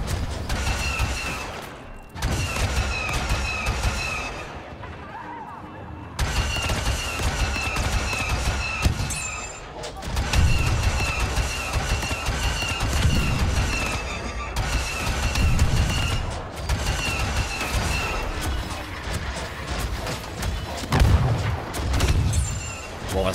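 Gunfire in the video game Star Wars Battlefront II, with loud repeated blasts and rumbling explosions in bursts separated by brief lulls, heavy low booms and ringing high tones across a busy battle soundscape.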